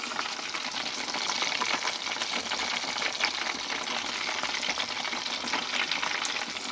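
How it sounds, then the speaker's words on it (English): Escovitch fish frying in hot oil, a steady dense crackle and sizzle that holds at an even level throughout, with no voices. "So now the fish is frying"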